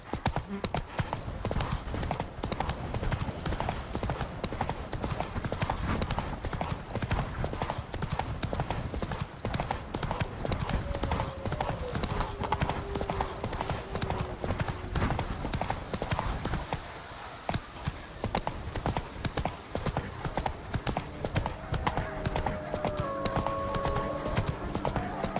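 Roach, Geralt's horse in The Witcher 3, gallops continuously with dense, rapid hoofbeats over loud game ambience, with faint brief voices.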